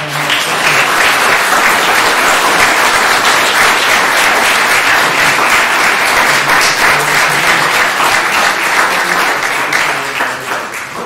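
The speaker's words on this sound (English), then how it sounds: "So one more round of applause." A crowd at a Little Falls, New Jersey township council workshop meeting gives a loud, sustained round of applause that carries on evenly before easing slightly at the end.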